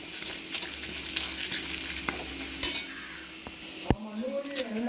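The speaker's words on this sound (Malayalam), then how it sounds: "ഇനി കുറച്ച് ജീരകം ചേർത്ത് കൊടുക്കാം ഒരു ടീസ്പൂണ് ചേർത്തിട്ടുണ്ട്" A teaspoon of cumin seeds sizzles and roasts in a pan with grated coconut, a soft steady hiss broken by a few spoon clinks and scrapes against the pan.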